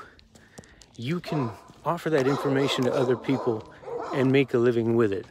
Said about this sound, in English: Usually they're not out barking at me.